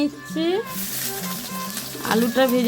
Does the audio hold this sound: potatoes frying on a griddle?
yes